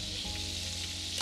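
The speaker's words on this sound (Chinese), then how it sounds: "咁我哋煎到佢好脆啦" Duck breast pan-frying until crisp for a French dish with red wine and figs, giving a steady, dense sizzle close up with low hum beneath, unbroken for its short length and with no talking.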